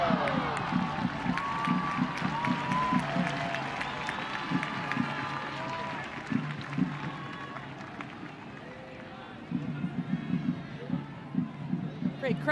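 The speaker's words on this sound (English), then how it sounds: "Great crowd on hand at Stade Boreal. Fans happy so far." A large crowd at a women's professional football match at Stade Boreal in Montréal keeps up a steady, distant roar with bursts of cheering and rhythmic clapping, while a commentator talks over it throughout.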